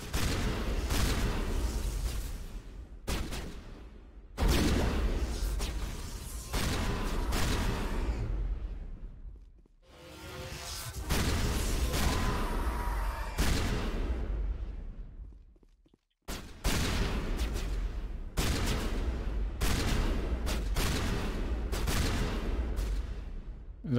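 Shotgun fire in the Mass Effect video game, heavy booming blasts in several loud bursts with short silent gaps between them.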